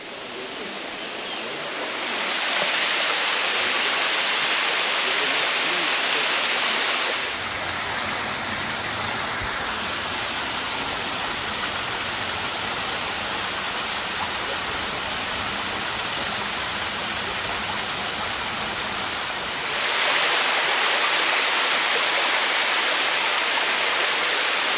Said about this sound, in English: just sit there and listen to the water roar